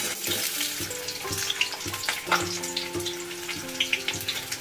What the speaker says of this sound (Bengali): এবার আমি তেলের মধ্যে দিয়ে দেব পেঁয়াজ।